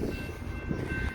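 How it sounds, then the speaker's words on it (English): A freight train passing at a suburban Illinois rail line, a low continuous rumble of rolling cars with a faint sustained horn tone above, fairly steady and close. "There's the first freight train."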